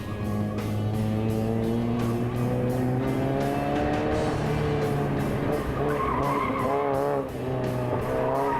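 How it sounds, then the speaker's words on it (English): Drift car sliding through the drift section of a course, engine roaring loud and steady with rising and falling revs while tires squeal continuously through the slide, no voices. "going into the drift section, drifts pretty well there"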